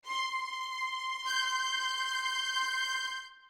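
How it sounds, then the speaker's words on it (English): A high violin note is held with a quivering tremolo, stepping to a slightly different pitch midway before stopping after about three seconds. "if we want to preview the tremolos"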